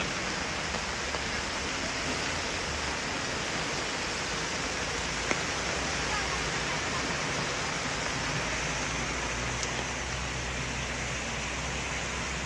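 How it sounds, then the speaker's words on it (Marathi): Floodwater rushes along a central city road in Akola after heavy rain, a steady broadband roar of flowing water throughout with no clear voices. "ही नदी नाही आहे तर हा रस्ता आहे आणि हा अकोल्यातल्या अतिशय मध्यवर्ती भागातला रस्ता आहे"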